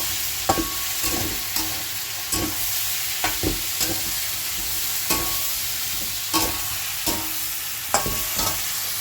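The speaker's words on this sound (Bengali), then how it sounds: "আর এইদিকে বড়াটা ভাজা হচ্ছে" Bora fritters frying in hot oil in a home kitchen: a continuous sizzle broken by repeated scraping clinks of a spatula, with no voices.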